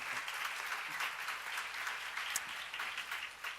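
A church congregation claps during a sermon, a steady, moderately distant round of applause that lasts the whole stretch with no voice over it.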